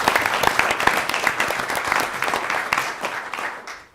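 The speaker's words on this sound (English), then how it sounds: "another round of applause for Kunal" Steady, dense applause from an audience at a school board of education meeting honoring a student, many hands clapping at once and tapering off toward the end.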